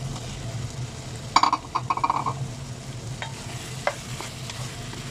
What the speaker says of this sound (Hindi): अभी हम इसमें आलू ऐड कर देंगे।